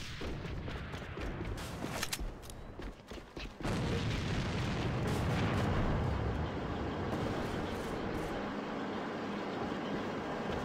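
A grenade thrown in a video game blows up with a sudden heavy blast that swells into a sustained loud rumble, following scattered sharp gunshots.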